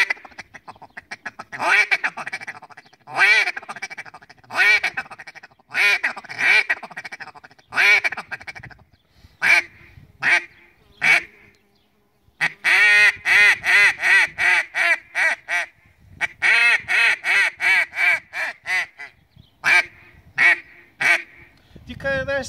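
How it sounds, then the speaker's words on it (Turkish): Repeated nasal duck quacks from a Reyoka duck call whistle, sounded in short bursts and rapid runs, loud and near, with brief pauses between series. "çok güzel ses veren bir ördek düdüğü"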